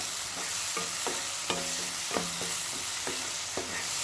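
Onions frying in oil with a little salt, softening in a pan, giving a steady loud sizzle punctuated by repeated ringing scrapes and clinks of a utensil stirring against the metal, close up.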